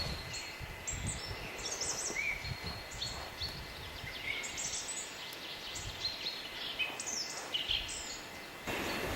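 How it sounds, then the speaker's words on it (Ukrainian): Dense forest birdsong, many small birds chirping and trilling at once from various distances, with a steady soft background hush. "Весь ліс дзвенить від співу птахів."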